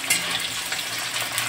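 Spices and red chilli frying in oil for a cauliflower, potato and pea curry, giving a steady close hiss and crackle that runs unbroken with no voices.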